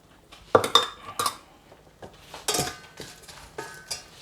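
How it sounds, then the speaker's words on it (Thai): Dried chilies being dry-roasted in a pan for a seafood tom yum hot pot, with scattered metallic clinks and scrapes of a utensil against the pan in irregular bursts, fairly close. "ก็ต้องขัวพริกแห้งครับ"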